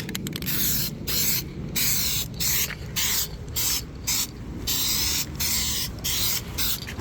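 An aerosol can sprays a second coat of paint onto a Lexus GX 460 chrome door handle. About a dozen short, close hissing bursts repeat in a steady rhythm with brief gaps between them.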